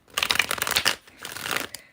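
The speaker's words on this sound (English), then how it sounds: "I'm just going to give this deck a couple shuffles" A deck of tarot cards being shuffled by hand, two bursts of riffling and rustling close up with a short pause between them, no talking.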